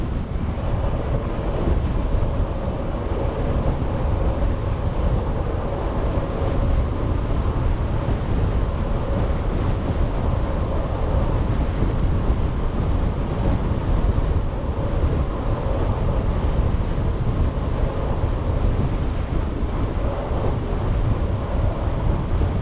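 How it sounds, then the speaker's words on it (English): Steady, heavy wind rushing against an e-bike rider on a Cube hybrid crossing Bodmin Moor near Colliford Lake in Cornwall, a loud, unbroken roar of buffeting across the whole stretch with no voices. "going against a bit of a wind here"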